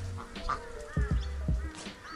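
A duck quacking on a farm with banana trees, several short nasal quacks in quick succession near the middle, close and fairly loud over quiet outdoor background.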